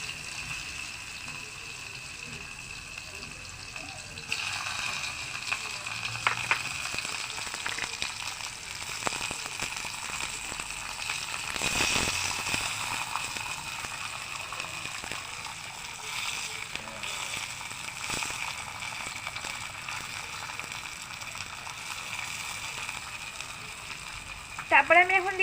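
Chopped onion and tomato fry in a pan with black cumin for a spicy mourala fish curry, a steady soft sizzle running throughout with occasional clinks and small spikes.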